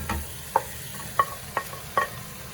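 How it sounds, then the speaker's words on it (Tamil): Squid pieces fry in a pan for biryani while being stirred, a soft background sizzle broken by four or five sharp spoon scrapes and clinks at uneven intervals, close-up and without speech. "இப்போ கணவாயை போட்டுட்டு கிளறி போட்டு"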